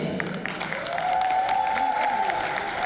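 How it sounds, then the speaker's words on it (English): An audience at a student services awards event gives a sustained round of applause. Dense clapping builds slightly and holds steady, with a faint whoop or cheer in the crowd and a voice speaking beneath it. "A huge round of applause to them."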